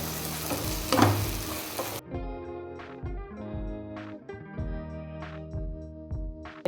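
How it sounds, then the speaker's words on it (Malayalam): Tomatoes, onions and masala for a chicken curry sautéing in a pan, with a steady close sizzle, a brief louder burst early on, and repeated scraping stirs of a spoon against the pan throughout. "ഇത് രണ്ടും കൂടെ ഒന്ന് വഴണ്ട് വന്നതിന് ശേഷം നമുക്ക് ഈ മസാലയും ചേർത്ത് കുറച്ച് ചിക്കൻ മസാലയും ചേർത്ത് നല്ലപോലെ വഴറ്റി എടുക്കാം"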